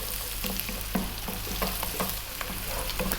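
Onion and garlic fry on high heat in a pan for a chicken and broccoli dish, making a steady, close crackling sizzle with light stirring scrapes throughout.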